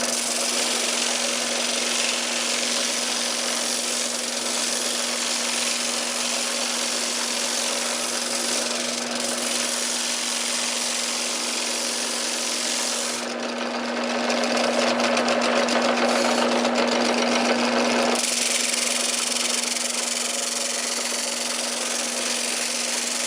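A drill press sanding a plywood template for an Adirondack chair gives a steady motor drone with a constant tonal hum, and the pitch and grit shift midway as the workpiece presses against the sanding drum.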